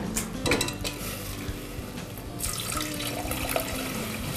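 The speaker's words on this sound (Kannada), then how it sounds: "ಸ್ವಲ್ಪ ಹಾಕೋಣ ನೀರು." Water pours into a cooking pot, a steady close splash mixed with clinking of metal pots and utensils, with no talking.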